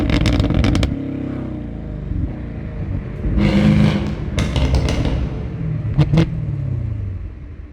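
A 2019 Chevrolet Camaro 1LE's exhaust crackles and pops loudly up close, with sharp backfire bursts at the start and again midway and near the end over a deep engine rumble as revs rise and fall.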